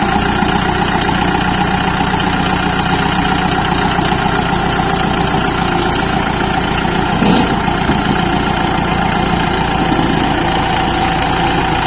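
A stuck tractor (John Deere 5043D, Kubota L4508 or Mahindra 475) runs steadily in deep mud with a chain attached, its engine a continuous loud idle-to-working drone with no talk.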